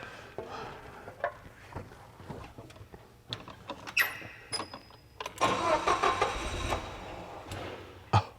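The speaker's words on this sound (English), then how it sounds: "I'm firing up the forklift!" A forklift engine cranks and catches in a busy garage, with clunks and knocks early on, then a louder burst of engine noise and rattling near the end.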